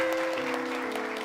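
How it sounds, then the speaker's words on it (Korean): Church congregation clapping in blessing, a brief steady patter of applause from many hands with a sustained tone ringing underneath, moderately loud throughout. "여러분 축복의 박수 축하해요."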